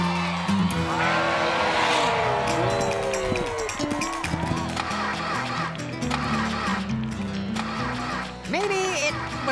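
Cartoon race cars whine and zoom past at high speed, their engine tones rising and falling over one another. The racing noise is loud and continuous, with voices and laughter mixed in.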